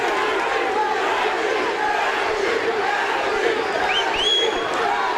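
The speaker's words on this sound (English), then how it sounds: "The crowd is now on their feet, chanting Gaethje." A fight crowd on its feet chanting for Gaethje during a World Series of Fighting bout, a dense, loud arena roar of voices with cheering swelling throughout and commentary running over it.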